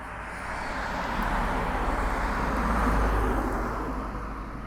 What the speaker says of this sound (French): il y a une voiture qui arrive. Enfin, même deux.